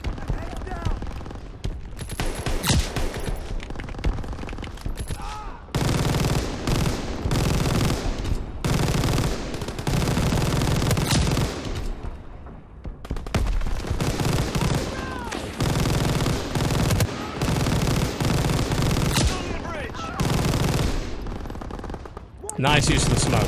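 Mounted MG firing in Call of Duty: WWII, loud sustained bursts of automatic fire with short gaps over about twenty seconds, mixed with other battlefield gunfire and brief talk.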